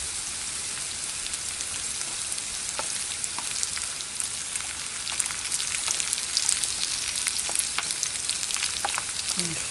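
Pieces of patin catfish frying in hot oil with a chili spice mix, a steady close crackling sizzle with scattered sharp pops throughout.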